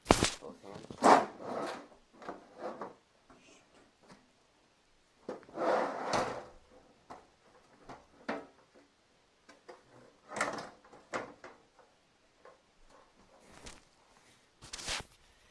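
Several scraping, sliding clunks of an IBM PC XT computer case cover being worked loose and pulled open, in irregular bursts separated by quiet pauses.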